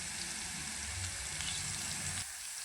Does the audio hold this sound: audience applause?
no